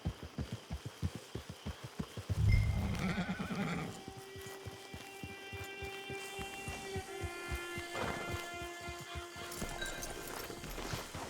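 A horse in the video game Red Dead Online whinnies loudly, close by, over a steady rhythm of hooves clopping along, with a low rumbling background and a second shorter whinny near the end.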